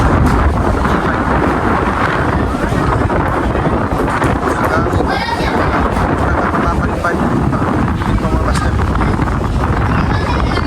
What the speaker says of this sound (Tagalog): Grabe yung hangin ng lakas